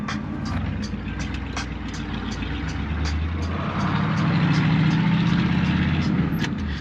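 A 1964 Impala lowrider riding at full lock-up, rough and noisy, with a steady loud engine and road drone, rattling and clunking over bumps, swelling slightly midway and continuing without a break.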